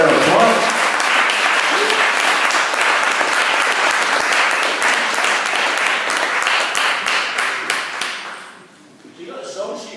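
Audience applause at a talk event, with a crowd clapping densely and steadily for several seconds before fading out near the end, with some voices mixed in.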